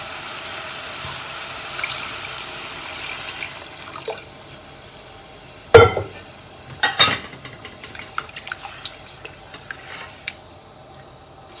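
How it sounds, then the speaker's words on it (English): Water pours into a pan of frying lamb and vegetable stew meat with a brief sizzle and gurgle, followed by sloshing and clinking stirring sounds that come in irregular bursts, close and moderately loud. "We'll add sufficient water to this."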